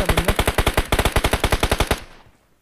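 A sustained burst of rapid automatic-weapon fire in PUBG Mobile, loud and close, lasting about two seconds before cutting off into a fading echo. No one talks.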